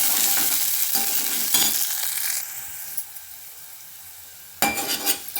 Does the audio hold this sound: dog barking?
no